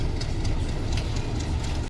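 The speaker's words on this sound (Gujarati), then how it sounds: "એટલા માટે આ જઈ રહ્યું છે એન્જિન આગળ." A metre-gauge locomotive engine rumbles low and steady nearby, a continuous heavy drone with faint clattering, cut off abruptly at the end.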